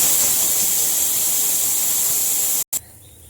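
A pressure cooker holding a brinjal, potato and tomato curry lets off a loud, continuous steam hiss as its whistle releases, steady for nearly three seconds before cutting off abruptly into quiet.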